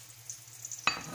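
Onions hit a hot pan for an eggplant bistek, starting a sudden loud sizzle after a second of quiet low hum, and the crackling frying continues steadily.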